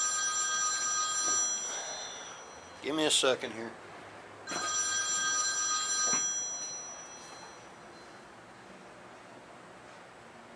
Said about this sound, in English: there goes that goddamn phone